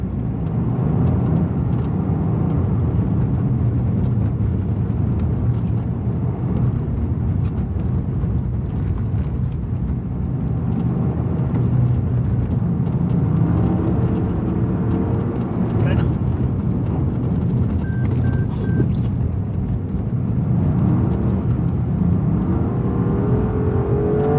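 A car drifting on ice gives a steady, loud engine drone and revving that runs the whole way through, with a voice talking over it repeatedly.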